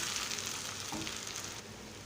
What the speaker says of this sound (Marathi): आता आपण परतून घेणार आहोत व्यवस्थित परतून घेणार आहोत